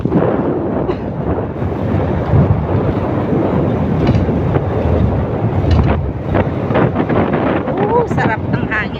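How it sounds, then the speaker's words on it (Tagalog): Strong wind buffets the microphone outdoors, a loud, steady roar with rumbling gusts that lasts the whole stretch, with no clear talking. "Sarap ng hangin"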